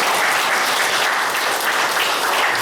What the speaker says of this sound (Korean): 그럼 박수 한번 칠까요?